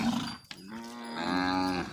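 A Gir cow moos loudly and close by in a farm field in a Maldhari village, giving one long drawn-out bellow that rises and then holds.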